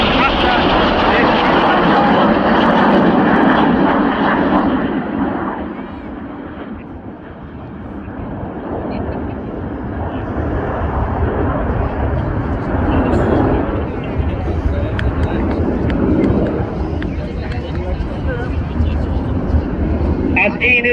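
Red Arrows jets flying a display at the RAF Cosford Airshow, a loud continuous jet roar that dips and swells again as the aircraft pass, with a commentator talking over it.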